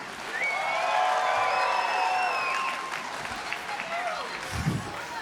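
Crowd at a SteelFist 91 MMA fight night applauds for a fighter's mother, a dense burst of clapping and cheers that swells, then thins out, with a voice breaking through near the end.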